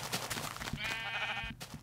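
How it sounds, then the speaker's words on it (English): A Minecraft sheep gives a single wavering bleat, fairly close and clear, amid light game clatter and footstep-like thumps. "Sheep of all colors."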